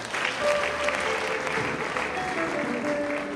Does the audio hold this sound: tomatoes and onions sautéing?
no